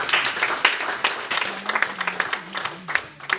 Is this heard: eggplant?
no